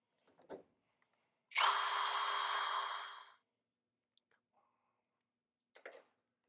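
A power drill drives a small screw into a part of a 1968 Volkswagen Beetle during a workshop makeover, one steady whirring burst of about two seconds, close and loud, framed by faint clicks and handling sounds before and after.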